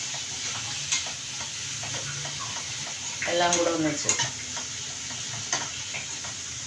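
Masala of onion and aromatics sautéed in a pan for matar paneer, a steady close hiss of sizzling with occasional ticks and a spoon scraping, briefly under a voice.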